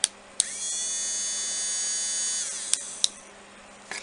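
A small USB-powered electric resin drill runs at high speed with a loud, fast, thin whine. Sharp clicks mark the switch going on and off, and the motor slows briefly near the end.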